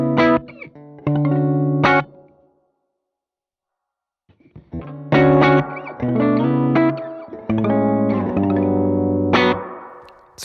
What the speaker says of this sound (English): You can hear how dark the reverb is now.